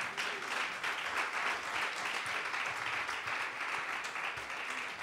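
Audience applause at a lecture-series event in Springfield, a steady wash of many hands clapping that holds at an even level throughout, with no speech over it.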